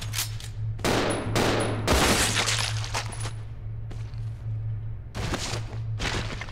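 Gunshots against zombies in Resident Evil Zero: a rapid, irregular series of loud, sharp shots with short gaps over a steady low hum, ending in another cluster of blasts.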